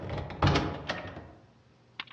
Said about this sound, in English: suddenly I heard the front door open downstairs